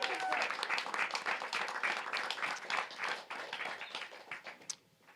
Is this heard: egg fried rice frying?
no